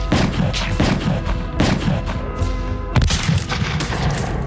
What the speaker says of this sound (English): The cop shoots Bobby